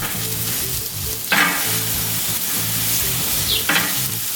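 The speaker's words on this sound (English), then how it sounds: "Look at that sizzle. That beautiful sear." Pork tomahawk chops seasoned with salt and pepper sizzle and crackle steadily while searing on a Big Green Egg grill, with two brief louder hisses as they shift on the grate.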